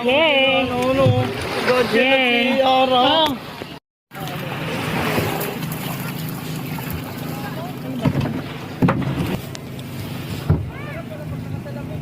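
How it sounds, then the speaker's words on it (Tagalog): A motorboat engine drones steadily under wind noise on a beach camping trip to Fortune Island, Nasugbu, Batangas, with voices singing and chattering over it at first, then a brief dropout before the engine carries on. "umandar na ang bangka"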